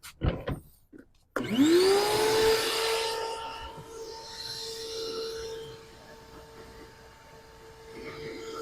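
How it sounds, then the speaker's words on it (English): A vacuum cleaner starts abruptly with a rising whine, then runs steadily with a droning hum and rough rubbing noises as the nozzle moves over a surface. "you can vacuum this up"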